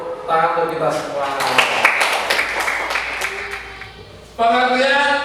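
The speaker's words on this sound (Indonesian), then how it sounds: "tepuk tangan untuk kita semua" A group claps together in a classroom-style lesson, a few seconds of dense applause rising after a voice and fading as speech resumes.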